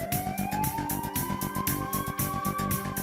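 Police car siren wailing in a rising, sustained tone while chasing a hijacked ambulance, loud and close over a rhythmic musical beat.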